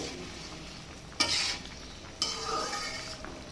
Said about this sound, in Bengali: দেখুন ঝোলটা কিন্তু ফুটতে শুরু করে দিয়েছে।